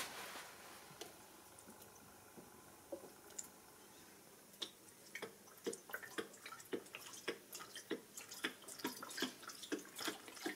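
Coolant trickles into the cooling system of a 1999 Peugeot 306 1.9 L with an overheating engine, a quiet stretch giving way to many soft, irregular drips and splashes that grow denser toward the end.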